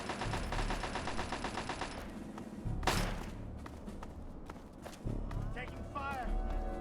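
Rapid automatic gunfire rattles in Fallout 3, a dense burst of repeated shots for about two seconds, then a sharp single blast and scattered thuds, with someone talking over part of it.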